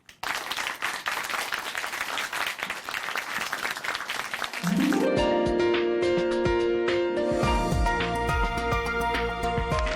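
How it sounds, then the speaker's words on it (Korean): Audience applause welcoming a testimony speaker at a Chuncheon church program: steady, dense clapping for about four and a half seconds, then music takes over for the rest of the clip. "박수로 맞이해 주세요."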